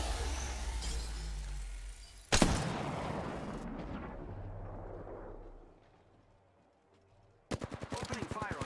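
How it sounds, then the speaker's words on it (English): Gunfire in a battle royale video game: a sharp burst, a crash and a rumbling tail, then a rapid rattling volley of shots near the end over game sounds. "Opening fire on the enemy."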